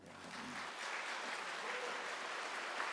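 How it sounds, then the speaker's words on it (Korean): A church audience applauds at a speaker's urging during a sermon, producing a soft, distant wash of clapping that holds steady for a few seconds, with faint voices mixed in. "여러분 박수 쳐야 돼요. 이건."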